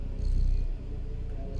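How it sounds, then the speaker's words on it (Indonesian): A cat in the video game Stray purring, a low rumbling purr that runs steadily throughout, close and clear with no speech over it. "Ada sih mendengkur."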